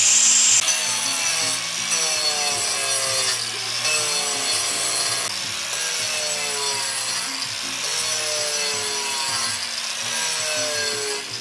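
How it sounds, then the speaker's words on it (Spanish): Continuous rhythmic rasping of sandpaper rubbed by hand back and forth on a carved wooden tray, steady strokes repeating about every second, close and fairly loud. "Ahorita le vamos a acabar y a darle la lijada."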